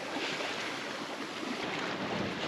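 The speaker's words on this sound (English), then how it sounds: "This is how the sailing looked like the last couple of days." A sailboat under way on the Pacific Ocean bound for French Polynesia, with steady broadband wind rush and wave wash pressing on the microphone, constant and fairly loud throughout with no talking.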